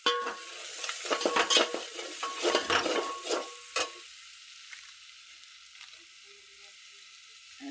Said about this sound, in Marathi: अजून थोडासा मसाला तेलात मस्त लाल तिखट भाजू द्या